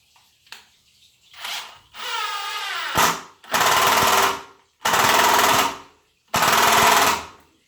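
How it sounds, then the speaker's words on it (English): Several bursts of a DeWalt Xtreme 12V cordless drill driving a screw, whirring and grinding, each lasting about a second, separated by short pauses, close and fairly loud. "then I'm going to use this mode on this drill"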